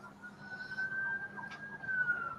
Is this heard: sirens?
yes